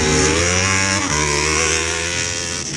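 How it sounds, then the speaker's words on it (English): A loud racing motorcycle at the Malle Mile event roars close by with a sustained high-revving engine drone, the pitch dipping briefly and then climbing again. "This bike is annoyingly loud."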